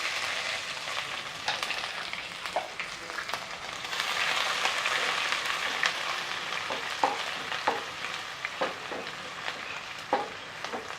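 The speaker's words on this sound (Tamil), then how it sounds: "இஞ்சி பூண்டு வறுக்கிறதுக்கு ரொம்ப நேரம் ஆகாது." Ginger and garlic frying in a pan for mutton curry, a continuous crackling sizzle with scattered pops and spoon scrapes as it is stirred, close and steady, with no voices.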